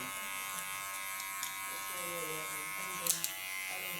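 Electric hair clipper buzzing steadily while cutting hair along a contour line at the back, a constant close hum with faint tonal harmonics and a couple of brief clicks, under quiet speech.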